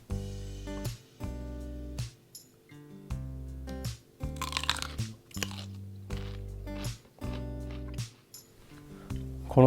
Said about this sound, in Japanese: まずバターをラディの上に乗せて、あとお好みで、塩、ミニョネット、ピモントエスプレッドなどをかけてそのまま食べるだけです